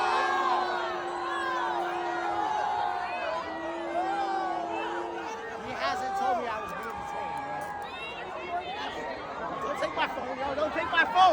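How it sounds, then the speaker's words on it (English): An agitated street crowd in New York shouts and chants at police to release a lookalike-contest winner, overlapping voices and yells rising and falling, growing busier and louder toward the end. "the crowd grew furious, demanding they free Timmy"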